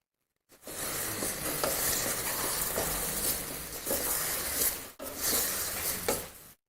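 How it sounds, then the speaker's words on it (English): Vegetables stir-frying in a pan with stock powder, a steady close sizzle and hiss broken by brief stirring scrapes, with a short pause near the middle. "the veggies are stir frying a little"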